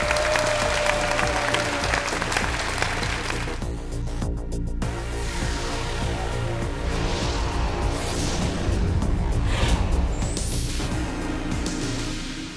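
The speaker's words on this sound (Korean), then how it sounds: "다시 한번 큰 박수 보내주시죠" A studio audience at a Korean television show applauds after the winning host is congratulated, a broad wash of clapping mixed with music and swooshing sound effects, fading slightly at the close.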